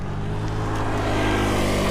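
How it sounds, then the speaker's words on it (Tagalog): A motor vehicle passes close on a quiet rural road, its steady engine drone swelling slightly over two seconds with wind noise underneath. "Yun lang may motor na dumaan."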